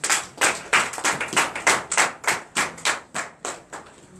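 A church congregation in Comè, Benin, claps in a steady rhythm of about a dozen loud, even beats in a row, with no talk over it.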